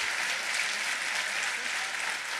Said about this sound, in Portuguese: Dê um aplauso para o Senhor Jesus.